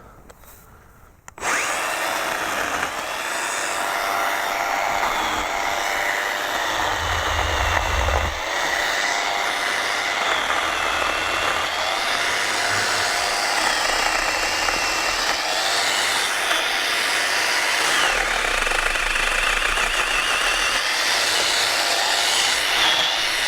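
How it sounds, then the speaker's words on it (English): A Makita 18-volt cordless angle grinder fitted with a chainsaw attachment whines up and runs continuously, loud and close, its motor note dipping as the chain bites into branches. "I'm going to hook it up to this Makita 18-volt cordless angle grinder. Let's see how well this works on these branches."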